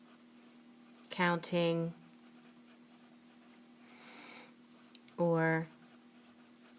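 Pen or marker scratching across a board or paper while notes are taken, a steady faint rubbing that runs under and between short stretches of a man's spoken counting.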